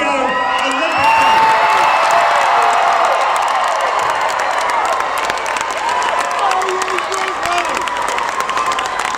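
A large outdoor homecoming crowd welcoming New Zealand's 2016 Rio Olympic team in Auckland cheers, whoops and claps loudly and continuously, with scattered shouts and voices rising through a sustained roar.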